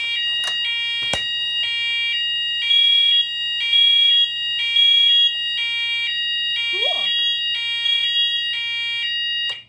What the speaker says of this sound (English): I'm gonna turn on all of the alarms